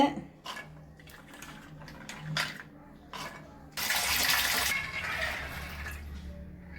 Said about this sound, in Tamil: இப்போதான் கழுவுனீங்களேம்மா, மறுபடியும் என்னம்மா கழுவின்னு இருக்கீங்க?